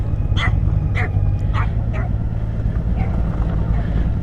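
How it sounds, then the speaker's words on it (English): Several small dogs bark angrily in sharp, separate yaps about every half second, heard over the steady rumble and wind of a passing Honda Goldwing motorcycle on an estate road. "Oh, little angry dogs."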